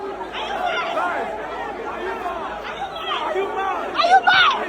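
Protest crowd chattering at Abuja airport, a steady dense babble of many voices close around, with louder shouting voices rising near the end.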